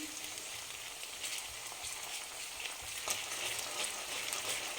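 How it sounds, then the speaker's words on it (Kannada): Green chili and garlic paste sizzles and fries steadily in a hot pan while palak dal is being made, a continuous close hiss with faint stirring scrapes and no talking. "ಹಸಿಮೆಣಸಿನ್ಕಾಯಿ ಬೆಳ್ಳುಳ್ಳಿ ಪೇಸ್ಟ್ ಹಾಕ್ತಾ ಇದ್ದೀನಿ ಸ್ವಲ್ಪ ಹೀಗೆ ಮಧ್ಯೆ ಹುರ್ಕೋಬೇಕು"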